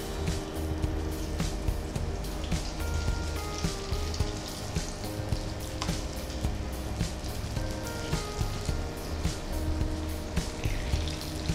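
Egg nests coated in vermicelli deep fry in hot oil with a dense, steady bubbling and crackling hiss that stays loud and close throughout, with no voices.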